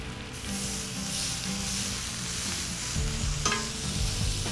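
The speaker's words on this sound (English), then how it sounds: "Then the filet is about to be ready to be seared." A filet sears in a hot pan with wine and broth, giving a steady, dense sizzle and frying hiss throughout, with stirring scrapes and a brief sharper crackle burst near the end; no one speaks.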